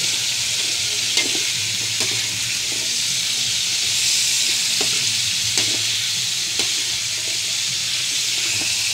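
Moringa flowers sauté in a pan with a steady, even sizzle and hiss, broken by a few light clicks and scrapes of stirring at close range, with no talking.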